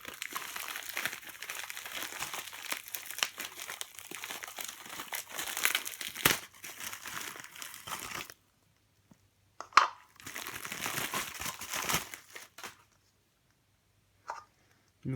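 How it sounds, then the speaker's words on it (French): A LEGO Star Wars set is pulled from its packaging with soft, close crinkling and rustling of plastic and paper, coming in stretches separated by quiet pauses, with one sharper crackle midway. "Je vais l'enlever de son emballage."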